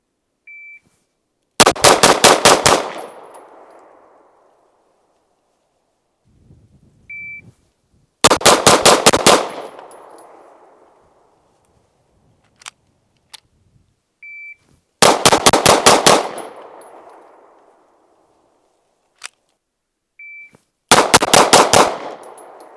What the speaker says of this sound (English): as soon as I hear the beep, I'm gonna start shooting the target down there